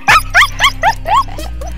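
A young puppy gives a quick run of five high, rising whines and yips, close and loud, followed by a softer whimper, with a low hum underneath.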